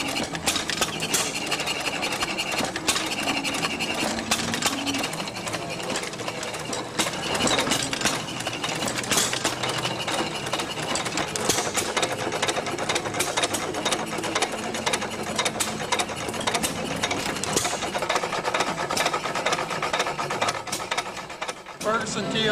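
A Ferguson TO20 tractor runs at a county fair, its engine giving a steady, busy mechanical clatter and ticking that continues throughout at moderate loudness.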